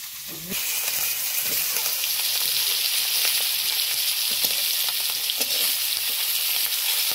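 Fish roe frying in oil in a pan, a loud, steady broadband sizzle that starts abruptly and continues without letup, with faint stirring clinks underneath.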